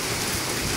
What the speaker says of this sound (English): This is major hail.